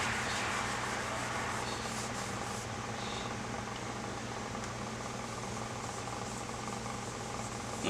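Cotton cloth wiping polyurethane finish onto a turned poplar wood urn, a steady close rubbing and scuffing over a constant low engine-like hum from the workshop, no talk.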